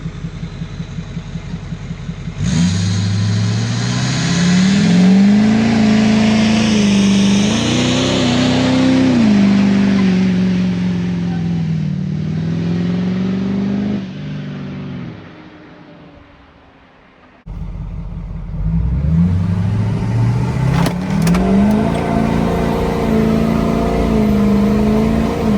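A Ford F-450 pickup truck with its engine light newly fixed makes hard 0-100 pulls, its engine loud and close as it revs up through the gears. A brief lull follows, then a second strong acceleration climbs again, with no voices.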